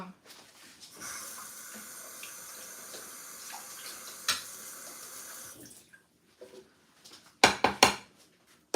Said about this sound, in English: So this needs to be rinsed because there are many seeds.